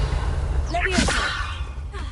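Levioso levitation spell in Hogwarts Legacy on PS5: a quick whooshing, whip-like magical sweep with a bright shimmer rising over a steady low game ambience.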